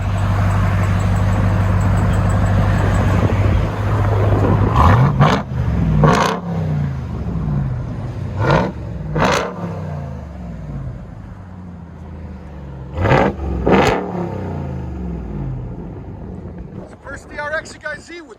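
A supercharged 6.2-litre Hemi V8 in a 2022 RAM TRX 4x4 with a muffler-delete dual exhaust, a deep idle rumble broken by several short throttle blips, heard close amid wind buffeting with people talking.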